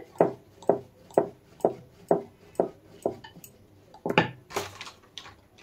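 Paratha dough is rolled out with a rolling pin on a board, giving a steady series of about eight close, distinct knocks and thumps, louder and quicker toward the end.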